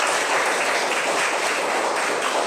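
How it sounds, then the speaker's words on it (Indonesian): Students in an Indonesian classroom give their discussion groups a round of applause during a Catholic religious education lesson. The clapping is steady, dense and fairly loud throughout, with no voices standing out. "Kita beri tepuk tangan dulu."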